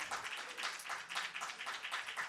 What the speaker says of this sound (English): Clap her up, clap her up, clap her up